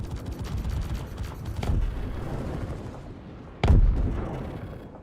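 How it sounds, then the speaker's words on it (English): Missiles strike a player in a space combat game: a rumbling volley of blasts rolls through the first seconds, then a single sharp, heavy explosion hits hard and decays into a low roar. "Oh, that poor guy just got domed by missiles."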